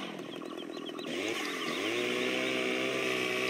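A chainsaw engine in Farming Simulator 17 buzzes steadily, then revs up and holds a loud, continuous drone with a synthetic, game-like quality.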